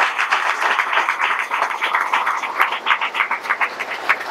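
An audience at a Guru Purnima satsang festival claps loudly and steadily, a dense run of hand claps that grows more rhythmic and distinct toward the end, with no talk over it.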